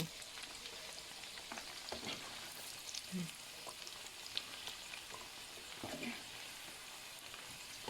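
Dried squid and dried fish deep frying in hot oil, a steady faint sizzle and crackle with occasional pops and stirring clinks, no talking.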